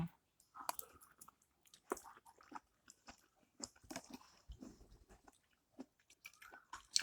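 Someone chews homemade coconut-jelly dessert with soft biting and crunching sounds, irregular and close, alone without talk.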